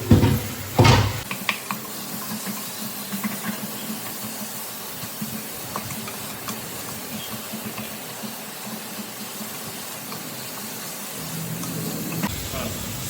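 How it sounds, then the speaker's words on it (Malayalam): Three medium onions go into a hot pan with a clattering hit, then a soft steady sizzle of sautéing carries on, with occasional scrapes of a utensil against the metal and a louder hiss returning near the end. "അതൊന്ന് റെഡിയാവുന്ന സമയത്ത് സവോള ഇട്ട് കൊടുക്കാം."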